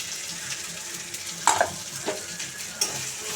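Spices being stirred in a frying pan while preparing a small fish dish: a soft, steady sizzle with a few sharp scraping clinks of a utensil against the pan, close by, no voices.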